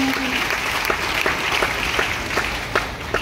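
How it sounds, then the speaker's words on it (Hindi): Audience applause at a DXN meeting, a steady wash of many hands clapping throughout, with some brief louder claps standing out and faint background voices. "धर्मेंद्र सर उनके लिए जोरदार ताली।"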